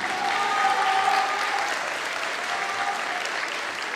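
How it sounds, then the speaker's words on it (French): A dense, sustained round of audience applause at a Miss Excellence Picardie beauty pageant, steady and full for the whole stretch. "nous pouvons refaire un tonnerre d'applaudissements pour Pascal de Grand Frère"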